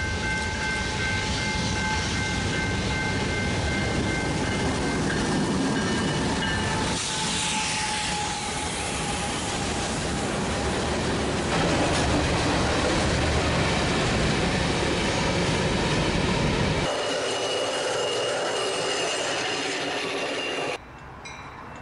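A BNSF manifest freight train led by two GE locomotives rolls past at LaGrange near Chicago: loud, continuous rumble and clatter of wagons with faint squeal tones, ending abruptly as the last cars clear.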